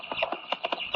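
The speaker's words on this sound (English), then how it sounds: "It sounds like a horse." Hooves clip-clop in a steady trotting rhythm, fairly close and clear, with no voices.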